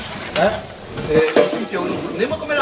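Tomato rougail reduces in a pan, bubbling and sizzling up close while a utensil stirs and scrapes in uneven strokes.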